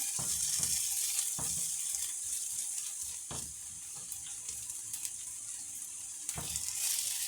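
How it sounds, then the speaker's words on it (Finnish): Lindström patties frying in a pan on a stove hob, giving a steady soft sizzle with occasional clinks and scraping taps from turning them, fairly quiet and without talk. "Eli näitä nyt tässä paistellaan."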